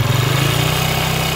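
A motorcycle engine with a connecting rod fault runs steadily up close: a loud, continuous low hum with no pauses and no talk.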